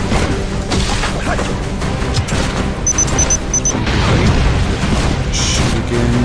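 Gunfire and heavy impacts in Eisenhorn: Xenos, a dense and continuous loud barrage of booming shots and crashes with no gaps.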